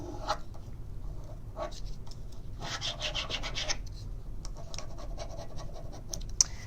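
A scrap transfer is rubbed onto a surface with repeated close, dry scratching strokes, bursts of quick back-and-forth rubbing with short pauses, no voice.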